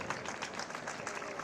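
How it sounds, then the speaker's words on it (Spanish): An audience at a women's elite cycling trophy award ceremony in Estella claps for a rider stepping onto the podium, a steady, fairly faint wash of applause with no voices. "Fuerte ese aplauso."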